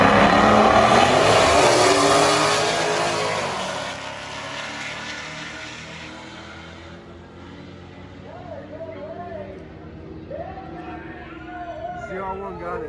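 Street cars at a drag racing event, an engine roaring loudly at first then fading away down the strip, with a crowd and voices talking underneath as the noise recedes.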